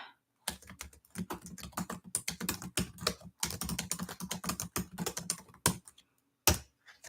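Typing on a computer keyboard in rapid bursts of close, crisp key clicks, with brief pauses between runs and a final isolated tap.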